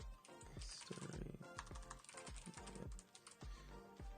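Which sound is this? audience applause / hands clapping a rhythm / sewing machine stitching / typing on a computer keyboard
typing on a computer keyboard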